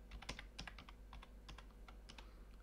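Close, quiet keystrokes on a computer keyboard typing msconfig, a quick irregular run of about a dozen clicks over a low steady hum, with no talk.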